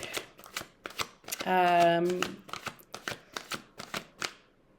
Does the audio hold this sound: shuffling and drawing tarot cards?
yes